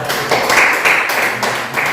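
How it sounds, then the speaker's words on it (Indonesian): A group of students claps for a presenting group in an eleventh-grade Catholic religion class. The applause is steady and fairly loud, with a few uneven swells over two seconds. "Kita tepuk tangan untuk kelompok."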